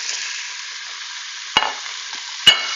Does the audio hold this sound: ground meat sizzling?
yes